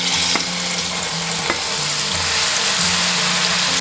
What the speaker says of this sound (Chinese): 接着我们直接下入料头炒